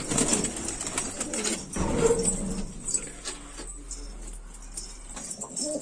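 Iranian high-flyer pigeons coo softly at close range, low murmuring calls that come and go alongside occasional rustling and faint flutter, with no talk.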